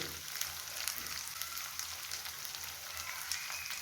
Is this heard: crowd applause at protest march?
no